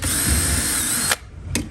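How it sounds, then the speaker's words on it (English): A power drill boring a hole during the installation of a UV light in an air-conditioning duct, running at steady high speed for about a second, then stopping and giving one more short burst, loud and close. "first we're gonna drill a hole, which I've just done right here."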